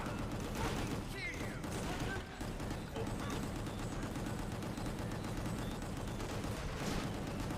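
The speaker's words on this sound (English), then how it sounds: "I'm shooting everything in here." Sustained, dense gunfire from a shooter in Gungrave G.O.R.E, a steady loud barrage of overlapping shots and impacts rolling on without pause.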